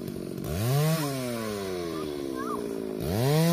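A chainsaw cuts a rubber tree in a garden, its loud whining engine revving up, holding a steady cutting pitch, then dropping and revving again near the end, with no voices heard.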